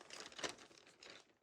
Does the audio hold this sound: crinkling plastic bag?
yes